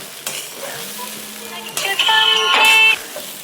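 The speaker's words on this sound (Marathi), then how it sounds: "पहा आता हे पोहे मी अगदी चांगल्या पद्धतीने मिक्स करून घेते" Poha being stirred and mixed in a pan with a spatula, with scraping strokes, a light sizzle and a few sharp clinks against the metal, close and intermittent.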